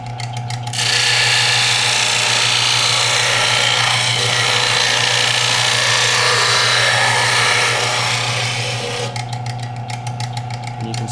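A belt sander grinds the blade of a hunting knife in one loud, sustained abrasive whine lasting about eight seconds, starting and stopping abruptly over a steady motor hum.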